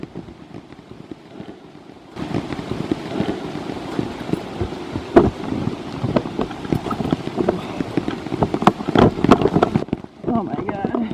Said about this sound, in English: I'm sick of the sound of the rain.